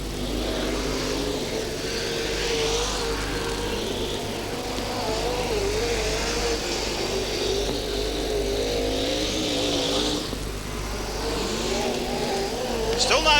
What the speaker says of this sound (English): The backfiring of John Pine as the cars come out of turn number 4 up the main straight one more time.